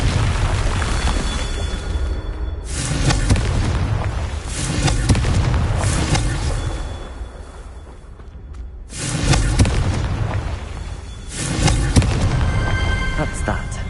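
Fiery explosions from the Confringo spell in the Hogwarts Legacy video game burst in repeated loud booming waves, several blasts rolling one after another with crackling debris between them.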